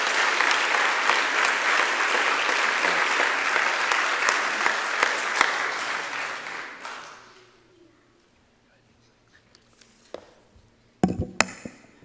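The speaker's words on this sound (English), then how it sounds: "So let's give these three a round of applause as well." Congregation applause at a church service, a broad sustained wash of clapping for several seconds that dies away into near silence, followed by a few scattered knocks and bumps.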